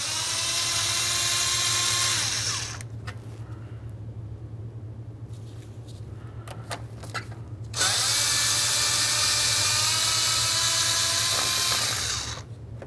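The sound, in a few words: removing 8 mm radiator mounting bolts with a tool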